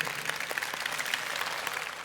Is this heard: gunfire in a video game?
no